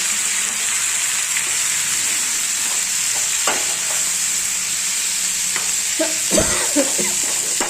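Radish greens bhaji fries in a pan with a constant close sizzle, while a spoon stirs it with occasional scraping knocks, louder near the end.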